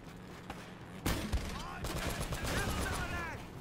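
Gunfire in Uncharted: Drake's Fortune opens with a few scattered shots, then a sharp crack starts sustained loud firing that continues to the end amid busy combat noise.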